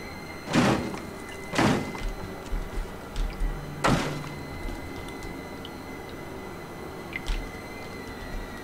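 In the horror game Outlast, someone tries to force open a door, giving three heavy, booming thuds against it a second or two apart, then a few lighter knocks and a final faint bang, with no talking.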